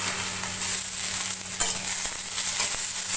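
Onion, garlic and tomatoes sauté in a pan for a Tamil fish curry, a steady close sizzling hiss of frying with faint stirring scrapes, no voices.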